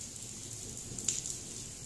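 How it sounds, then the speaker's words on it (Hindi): Heavy rain pours down in a steady, even hiss, a continuous wash of falling water with no breaks. "बहुत तेज़ बारिश शुरू हो चुकी है"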